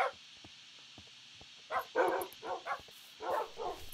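Dogs bark in the Minecraft video game, several short bursts spaced across a few seconds, with a quiet stretch of ticking game sounds before them.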